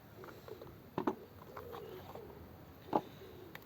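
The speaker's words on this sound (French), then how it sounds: "J'adore les tourterelles." Turtle doves coo softly in a few brief, separated calls, faint and somewhat distant against a quiet outdoor background.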